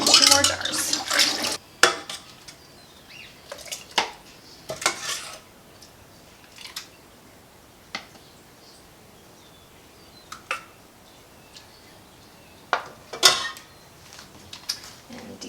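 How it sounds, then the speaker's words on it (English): Glass canning jars are set onto a canner rack one after another, making sharp clinks and knocks of glass on metal, spaced out with quiet gaps and faint watery sounds in between. "And then we're going to place our jars on our rack."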